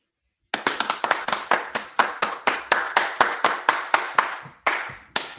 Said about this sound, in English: I brought my own claps with me today